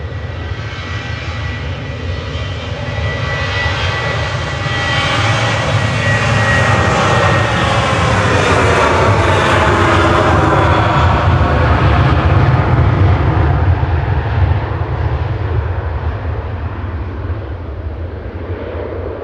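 An airliner on flight 732 to Agadir takes off from Manchester Airport with a loud, sustained engine roar that builds and holds throughout, heard alone without talk.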